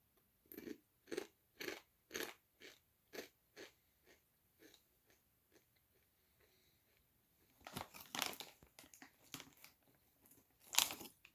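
Chili cheese flavor corn chips crunch close up, a series of regular bites and chews that fade, then louder crunching resumes near the end, with no talking.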